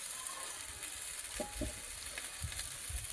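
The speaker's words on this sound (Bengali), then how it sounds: "আর দেখো শিম বেগুন আলু ভালোভাবে আমার ভাজা হয়ে গিয়েছে। এই মুহূর্তে আমি সর্ষে বাটা দিয়ে দেবো।" Flat beans, eggplant and potatoes fry in a pan before mustard paste is added. A faint, steady sizzle runs throughout with a few soft stirring knocks, and no one talks.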